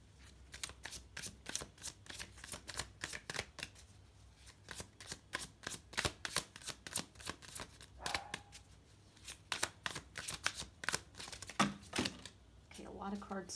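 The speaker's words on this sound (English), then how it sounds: "a lot of cards fell" Tarot cards being shuffled in a pick-a-card reading, a dense run of close, crisp riffles and slaps with several cards dropping, while a voice talks softly underneath.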